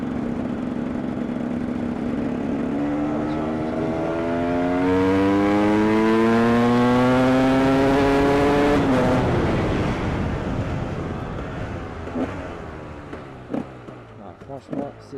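A KTM 300 EXC supermoto two-stroke motorcycle engine revs while riding, pitch climbing steadily through a long pull, then dropping off into blips and throttle chops; close and loud, with wind noise.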